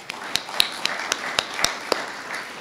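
A small audience at an archives centennial celebration gives a round of applause: a handful of sharp, separate claps in loose rhythm, fairly faint against room ambience.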